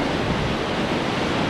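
Black Sea surf at Ordu with waves around two metres high, heard as a dense, continuous roar of breaking water, close and loud, with no voices.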